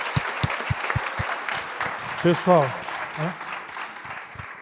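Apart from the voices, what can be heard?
audience applause in church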